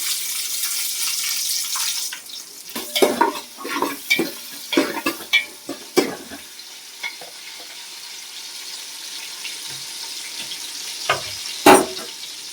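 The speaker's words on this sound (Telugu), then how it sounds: "ఆవాలు వేగిన తర్వాత ఎర్రగడ్డలు వేసుకోండి." Onions fry in hot oil with mustard seeds and curry leaves, giving a steady sizzle broken by a run of sharp, close stirring scrapes and clatters that thin out into a quieter frying hiss.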